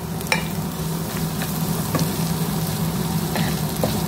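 Onions frying in a hot wok (kuwali) for Indian-style chicken biryani, a steady close sizzle with faint stirring scrapes and clicks throughout, no talking.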